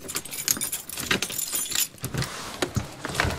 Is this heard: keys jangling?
yes